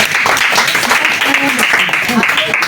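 An audience at a school event applauds a student with a dense, steady wash of clapping that lasts throughout, while voices talk over it.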